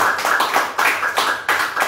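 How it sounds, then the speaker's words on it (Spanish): A church congregation claps in a loose rhythmic burst, sharp close hand claps repeating in roughly even pulses for a couple of seconds. "Un aplauso al Señor."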